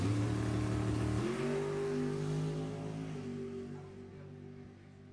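A funny car at Sacramento Raceway during drag racing eliminations, a loud engine roar that shifts pitch after about a second and then gradually fades into the distance.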